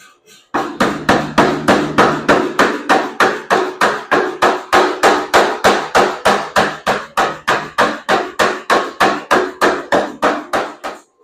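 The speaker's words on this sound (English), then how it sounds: "This will be the last little bit of forging that we have to do on this billet." A hammer forging a feather pattern Damascus steel billet, about forty loud, evenly spaced ringing blows struck in a steady fast rhythm, each decaying briefly, with no voices.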